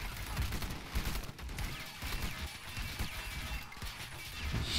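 Heavy gunfire from the video game Call to Arms on an oilfield map, a dense continuous roar of overlapping shots and blasts that stays loud throughout with no clear gaps.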